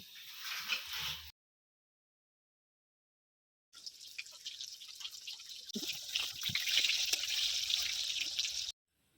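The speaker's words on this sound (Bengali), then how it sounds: "সব মাছগুলো কোট করা হয়ে গেছে তেল গরম হয়ে গেছে মাছ দিয়ে দিচ্ছি" Coated masala fish fry in hot oil with a loud, close sizzle and crackle. The sizzle cuts to silence, then returns with scattered pops and spatters before ending abruptly.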